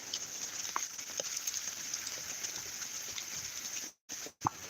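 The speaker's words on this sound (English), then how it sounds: "It's raining pretty good out here." Steady rain patters outdoors on a hillside during a hunt, a dense even hiss filling the whole stretch with scattered louder drops and two brief dropouts near the end.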